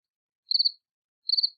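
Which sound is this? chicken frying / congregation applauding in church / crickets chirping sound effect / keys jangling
crickets chirping sound effect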